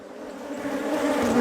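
Honey bees swarm around a beekeeper at an apiary, a steady close droning buzz that holds and slowly swells, with no talk.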